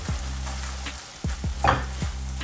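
Risotto rice being stirred with parmesan off the heat, giving soft repeated scraping and sticky stirring strokes at an even rhythm, close and fairly quiet with a faint background hiss.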